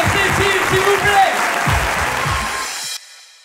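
An audience applauds Cécile on a television set with a giant screen, a burst of loud, dense clapping that fades out abruptly after about three seconds.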